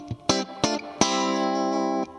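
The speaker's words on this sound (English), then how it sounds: "It's known for having a bright, clean, twangy kind of sound like this." An electric guitar plays through a Fender Super-Sonic tube amp on its Vibrolux channel, giving a bright, clean, twangy tone. Two short plucked notes are followed by a chord that rings for about a second, with no talking.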